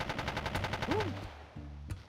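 Rapid automatic AK rifle fire in the video game Battlefield 2, a fast even burst of shots lasting about a second, then a brief pause and one final shot.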